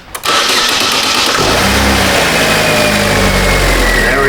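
A Chevrolet Aveo engine cranks and catches, then settles into a loud, steady idle with a low rumble that continues to the end, with no talking.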